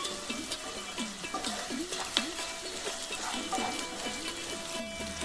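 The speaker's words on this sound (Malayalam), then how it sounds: "അപ്പം നന്നായിട്ട് ഇളക്കി നന്നായിട്ടൊന്ന് മൊരിച്ചെടുക്കണം" Pickle spices for a green apple pickle fried in oil while being stirred, a close sizzle with a rhythmic scrape of the spoon against the pan repeating about twice per second.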